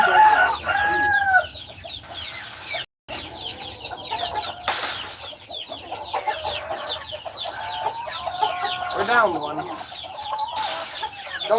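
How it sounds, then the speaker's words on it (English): Farmyard chickens in Aklan cluck busily while a rooster crows, wings flap and a voice speaks briefly, the flock noise continuing loud and close with a short break partway. "You stupid chickens!"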